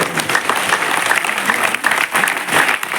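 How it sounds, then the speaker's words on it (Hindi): Loud, dense applause from a seminar audience at Awadh University in Ayodhya, steady clapping that fills the whole stretch with a few louder swells, no voices standing out. "जोरदार तालियां होनी चाहिए, जबरदस्त तालियां होनी चाहिए"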